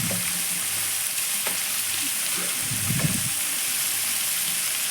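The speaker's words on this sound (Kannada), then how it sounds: "ಟೊಮೊಟೊನ ಸೇರಿಸಿ ಅದಕ್ಕೆ ಮಿಕ್ಸಪ್ ಕೊಡ್ತಾಯಿದ್ದೀನಿ ಎಲ್ಲದಕ್ಕೂ" Tomatoes added and stirred into a hot frying pan while cooking chithranna rice, a steady loud sizzle with a few scraping stirs and a brief wet bubbling.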